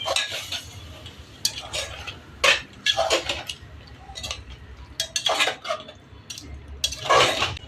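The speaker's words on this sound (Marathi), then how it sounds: "आता हे आपण मिक्स करून घेऊया" Chicken being stirred and mixed in a pot for biryani: a spoon scrapes and knocks against the metal in irregular bursts, close by, with a soft sizzling underneath and no voices.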